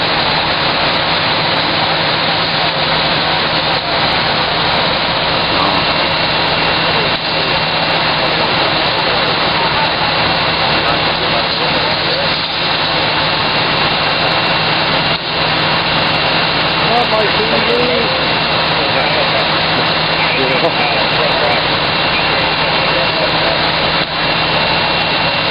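At least three fire engine trucks idle outside a house fire at Hillside Court in Endicott, NY, their engines producing a loud, steady, unbroken drone throughout while people talk over it.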